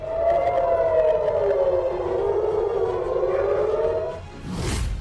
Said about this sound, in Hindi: हर तरफ सायरन बज रहे हैं।